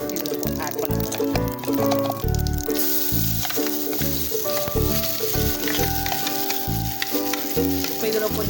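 Loud crackling sizzle of ground ginger paste frying in hot oil, with scraping stirs and clinks, while someone talks over it.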